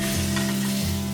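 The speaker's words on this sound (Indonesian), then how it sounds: "Kita kasih minyak 2 atau 3 sendok makan. Ini bawang merah, bawang putih 6 ya" Pounded shallots and garlic, six of each, frying in two or three spoonfuls of oil for kway chap, sizzling loudly and steadily under a low electrical hum.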